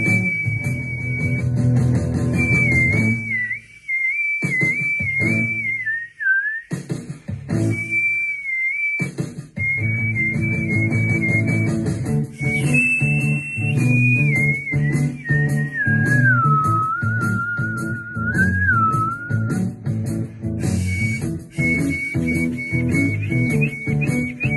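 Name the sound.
palatal whistling demonstration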